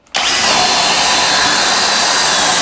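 A Flex Turbo FX1271T or DeWalt FlexVolt DCD999 hammer drill on speed 3 bores a hole with a 1 1/4 inch bit, starting abruptly and holding a loud, close, continuous roaring grind with no voices.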